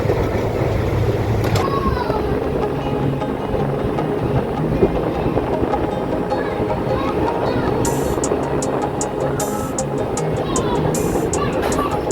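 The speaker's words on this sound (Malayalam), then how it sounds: "ഞങ്ങളുടെ ട്രെയിൻ പോയിക്കൊണ്ടിരിക്കുകയാണ്" A train near Alappuzha rumbles along the tracks with a steady, loud roar and rhythmic clatter, high metallic squeals breaking through near the end.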